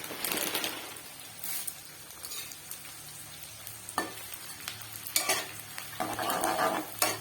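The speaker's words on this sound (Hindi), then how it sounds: "सबसे पहले डालेंगे गोंद, थोड़ा थोड़ा गोंद डालकर तलेंगे" Edible gum (gond) frying in ghee for gond laddu, a close, continuous sizzle with bursts of crackling and scraping stir strokes of a spoon, plus faint bird calls in the background and no voices.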